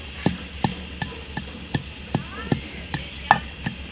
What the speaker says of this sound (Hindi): ये देखें कूट रही है।